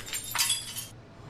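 Glass shatters in the horror video game Outlast 2, a sharp close crash with a short tinkling tail over a low background hum.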